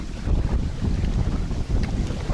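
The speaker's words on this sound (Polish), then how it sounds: "Jest trochę walka z wiatrem, zwłaszcza teraz w tych polach." Gusty wind buffets the microphone with a deep, rumbling roar that swells and dips in uneven bursts, in open fields beside the small Grabia river during a kayaking trip in Poland.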